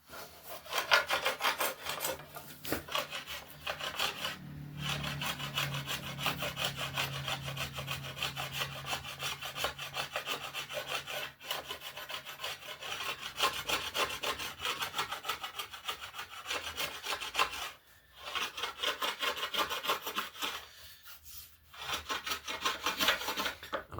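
Parcel tape remains are scraped off a laminate wooden longbow in a steady, rasping back-and-forth scrape that runs almost continuously, close up, with a couple of brief pauses and no speech.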